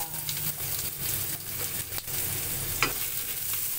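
Garlic and ginger sauté in a pan for a Filipino milkfish soup, with a steady sizzle and occasional stirring scrapes under no talk.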